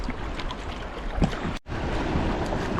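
Rough sea waves slosh and wash around a small boat out fishing at night, a steady loud rush of water and wind buffeting with a brief dropout midway.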